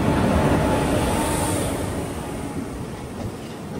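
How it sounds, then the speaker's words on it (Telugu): A passenger train of ICF coaches rolls into a station with a loud, close, continuous rumble and rattling of wheels on rails that slowly eases as it slows. "ఏదో బండి వస్తుంది లోపలికి."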